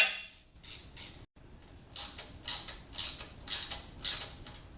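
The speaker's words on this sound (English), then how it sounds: "Tighten the hose clamp." A worm drive hose clamp is tightened onto a radiator hose on a Suzuki V-Strom 1000 motorcycle, giving a series of faint, close, rhythmic ratcheting clicks with brief pauses between turns.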